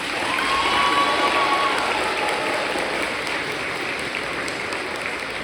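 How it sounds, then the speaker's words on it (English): Hall full of parents and students at a 7th grade honors day ceremony breaking into steady, sustained applause, a dense even patter of many hands with no talking. "Give yourself a round of applause."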